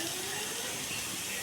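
Water is poured over chicken dum biryani in a brief, steady hissing splash, heard close and continuous with no talking.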